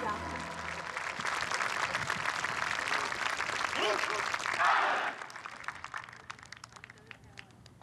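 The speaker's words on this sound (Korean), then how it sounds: "자랑스러운 특전 용사들에게 다시 한번 뜨거운 박수 부탁드립니다" Loud applause from a large crowd at a Korean Armed Forces Day ceremony honoring special forces soldiers, sustained for about five seconds before cutting off into quieter outdoor ambience.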